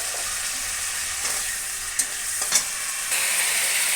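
Whole garam masala spices and cumin seeds sizzle steadily in hot oil in a pan for a Bengali chicken curry, a loud, even frying hiss with a couple of brief crackles and pops.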